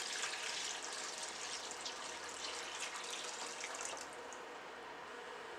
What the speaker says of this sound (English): Overall, I am adding 2 liters of water.